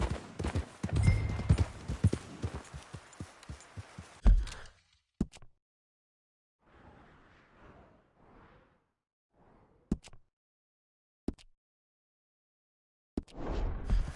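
A horse in the video game Red Dead Redemption gallops with rapid rhythmic hoof clip-clops for several seconds, then falls mostly quiet, broken by scattered thumps and brief soft game sounds.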